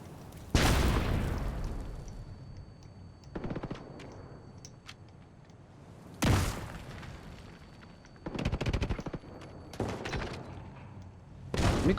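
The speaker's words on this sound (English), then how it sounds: "How many grenades does this guy have?" Grenade explosions and bursts of gunfire in a Division 2 PvP fight: a sharp loud blast early, then separated bursts and booms spaced across the stretch with quieter gaps between, no voices.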